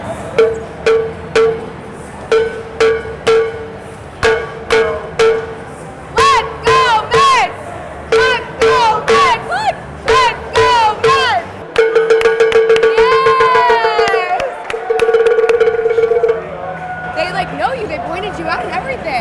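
A lone fan at a Mets game at Citi Field leads a rhythmic chant, with a loud voice answered by crowd calls in a steady repeating pattern. A longer drawn-out cheer swells near the end, and people chatter around it.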